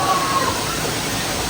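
Steady rushing water of a waterfall at a hidden site in the UK, a dense continuous roar close by, with a faint tonal whistle early on.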